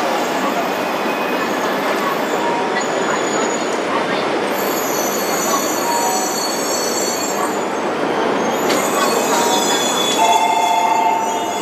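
E2 series 1000 and E3 series 2000 Shinkansen trains coupled as the Yamabiko-Tsubasa service pull into a platform at Tokyo Station, a steady loud rumble with squealing wheels and brake hiss, platform announcements faintly audible over it.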